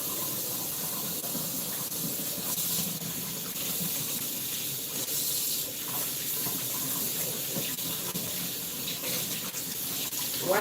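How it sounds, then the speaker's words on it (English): Raw steak rinsed under a running kitchen tap, a continuous splashing gush of water with small shifts as the meat is moved, close and steady with no talk. "wash your steak"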